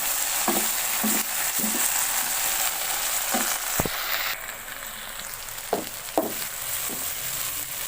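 Masala okra with black pepper fries in a pan, a steady close sizzle punctuated by several soft knocks and scrapes as the mixture is stirred, with the hiss dropping slightly partway through.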